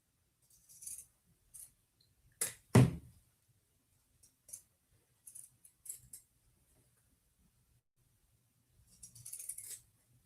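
Pinking shears cut through shirt fabric in scattered snips and clicks, with one louder thunk of the blades closing, then a few softer cuts and a cluster of crisp snips at the end.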